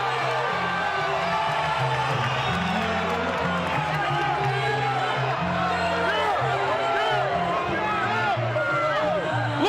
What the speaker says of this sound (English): The crowd is going bonkers.